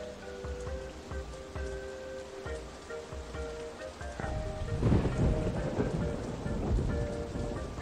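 Steady rain with rolling thunder in the OpenRCT2 theme-park game, a continuous hiss that swells louder midway with a deep rumble, heard alone without talk.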